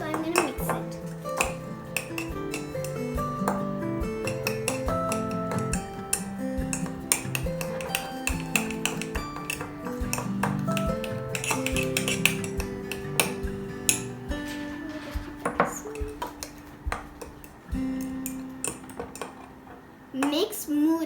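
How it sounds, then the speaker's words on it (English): A utensil whisks quick kids' cake batter in a bowl, making repeated light clinks and taps against the bowl's side in an irregular, busy rhythm, close and fairly clear. "I see a little bit more white, so I'm going to mix it."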